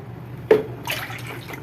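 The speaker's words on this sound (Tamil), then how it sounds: "நான் இப்போ இதில் 3 கப்பு தண்ணி ஊற்றிடுறேன்." Water poured into a pot in a home kitchen for making Thiruvathirai kali, a short splashing gush followed by a softer, uneven trickle, close and fairly quiet.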